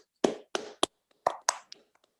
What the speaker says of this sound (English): So let's unmute and clap.